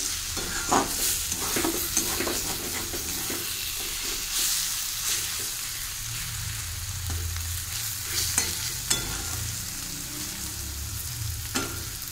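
Kohlrabi and potato frying together in a pan, with a steady broadband sizzle and intermittent stirring scrapes throughout, close and fairly loud.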